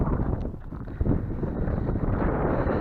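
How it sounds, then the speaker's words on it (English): Gusty wind rumbles against the microphone, rising and falling in uneven bursts, close and fairly loud. "So it's getting pretty windy."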